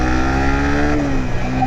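A Suzuki GSX-R150 motorcycle engine revs steadily and loudly nearby, its pitch rising slightly partway through as the throttle is held.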